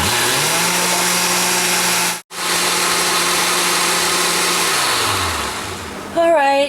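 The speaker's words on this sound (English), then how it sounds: "I'm just going to go ahead and start blending it up" A blender pureeing a kale and peach smoothie gives a loud, steady motor whir for several seconds, briefly cuts out, then resumes and shifts pitch near the end.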